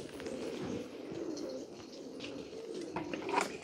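Pigeons coo on a rooftop in winter, soft low repeated coos close by, with faint scratching and rustling around them.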